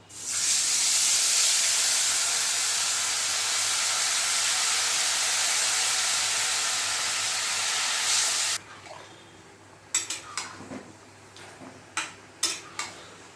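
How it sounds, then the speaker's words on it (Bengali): Marinated chicken dropped into hot oil in a kadai gives a loud, steady sizzle for about eight seconds, then cuts to quieter scattered clinks and taps of a utensil against the pan. "এই যে কড়াইতে তেল দিয়েছি, চিকেনগুলো দিয়ে দেবো।"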